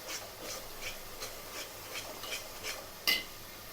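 A spoon stirs and scrapes masala frying in a pan, a soft rhythmic rasp repeating about every half second, then a brighter clink near the end, fairly close and alone.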